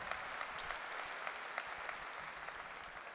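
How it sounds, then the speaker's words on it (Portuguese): A comedy roast audience in Porto claps for a comedian, steady crowd applause with a few sharper individual claps standing out, heard faintly and alone. "um forte aplauso para o Fernando Rocha"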